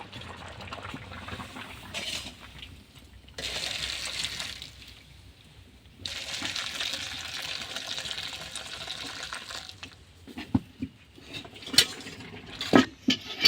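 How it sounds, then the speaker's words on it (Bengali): Freshly washed Malabar spinach is shaken to throw off water, giving bursts of wet rustling and dripping that stop and start, followed by a few sharper knocks and clatters near the end. "এবার জলটা ঝাড়িয়ে নেবো"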